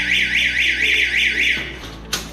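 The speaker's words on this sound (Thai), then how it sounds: "จะดูกันว่า อารามสามารถดังได้หรือเปล่าครับ" An ATS14 AED cabinet alarm sounds a loud warbling electronic siren that rises and falls in a regular cycle, then cuts off abruptly, followed by a short sharp click.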